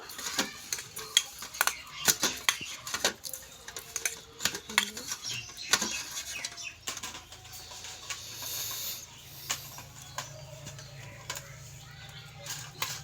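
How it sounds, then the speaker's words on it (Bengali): A spoon stirs and scrapes semolina batter mixed with milk in a bowl, giving repeated soft clinks and wet scraping strokes, close and moderately loud, with a low background hum in the latter half. "দিয়ে এর মধ্যে দিয়ে দিচ্ছি আমি 1 কাপ দুধ, দিয়ে এটাকে আমি ভালো করে মেখে নেব।"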